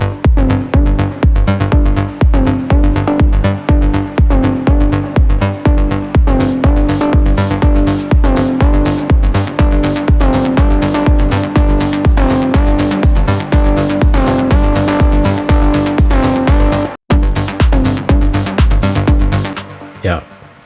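Electronic track built on a Moog hardware synthesizer bass line with a steady pulsing kick and plucked synth notes, loud, dense and continuous, with a brief dropout near the end.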